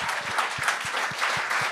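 Brief burst of studio audience applause at a televised talent show, many hands clapping in a dense, lively patter with a few distinct claps standing out.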